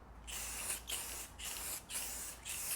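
Tint coat is sprayed from an aerosol can onto vehicle tail lights in four close, even hissing bursts separated by brief pauses. No speech.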